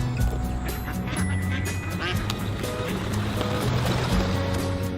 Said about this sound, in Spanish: Qué hermosos son los patos, papá.